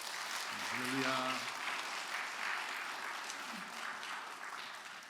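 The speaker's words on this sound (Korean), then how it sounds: "나오실 때 박수로 환영해 주시기 바랍니다." A church congregation at a Sunday worship service applauds to welcome a pastor to the pulpit, a moderate wash of clapping that swells and tapers over a few seconds, with a brief voice at the start.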